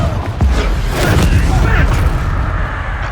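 A Confringo fire spell in Hogwarts Legacy, a loud rumbling booming blast with crackling, sustained noise across a few seconds, dense and close.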